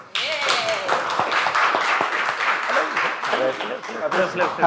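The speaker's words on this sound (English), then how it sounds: "could we have a round of applause" A room full of people clapping steadily, dense and continuous, with voices and an amplified speaker mixed in over the applause.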